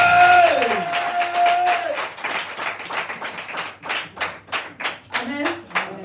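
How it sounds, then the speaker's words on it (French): A church congregation claps and applauds at a French-language Christian conference, a dense, steady wall of hand claps with cheering voices rising above it at the start, then a rhythmic, pulsing clapping that carries on to the end. "Acclame Jésus"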